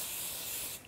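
Spray adhesive hissing from an aerosol can during a papercraft session with die-cut card, a steady close, loud spray lasting almost a second before cutting off.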